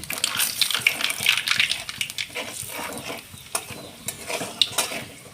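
Whole spices temper in hot oil, among them a piece of cinnamon, a small cardamom, a dried red chilli, two small bay leaves and nigella seeds, giving a bright crackling sizzle with stirring scrapes and a loud pop near the middle.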